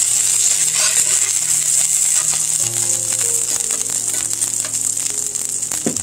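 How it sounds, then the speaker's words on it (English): Browned bits scraped off a hot pan while cod and olive tapenade pasta sauce cooks, a steady loud sizzle with gritty scraping and small clinks running through, no voices. "I'm going to scrape up those goodies before they start to burn"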